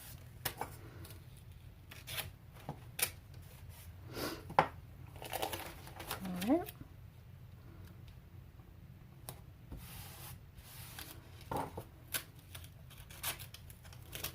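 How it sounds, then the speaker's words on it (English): Scissors snip and masking tape crinkles and peels on watercolor paper taped to a board, giving faint scattered clicks, rustles and short tearing sounds at close range with no talking. "I'm just cutting this masking tape."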